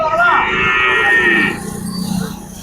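At the Melapalayam cattle market in Tirunelveli, a cow lets out a loud, close moo lasting over a second, followed by a lower, softer lowing call.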